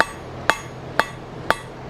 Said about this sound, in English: All I've done is hammer on one side. Anvil is obviously hammering for me on the other side.